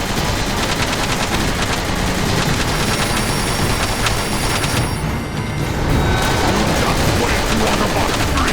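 Heavy continuous gunfire from the Transformers: War for Cybertron video game during a boss fight, dense rapid automatic bursts mixed with booms, a brief dip in the middle, then loud again.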